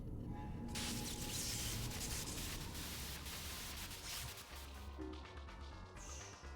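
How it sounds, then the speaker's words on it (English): Harsh, loud wash of static white noise from .hack//G.U. Last Recode, filling the scene with a steady hiss and crackle that shifts slightly before thinning out near the end. "White noise on the screen will signal the start of battle"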